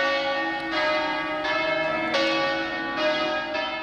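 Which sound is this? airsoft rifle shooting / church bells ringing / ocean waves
church bells ringing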